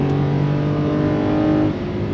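A Ford F150 with a 5.0 Coyote V8, driven in sport mode, revs hard toward high RPM, giving a loud, sustained engine howl with steady rising tones heard up close and alone.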